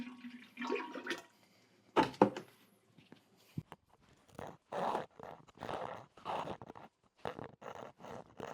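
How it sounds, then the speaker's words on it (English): Pottery glaze sloshes and swirls inside a pot, then pours out in several gurgling, splashy bursts with brief pauses between them, fairly close. "Pour some glaze inside, shake it around a little bit,"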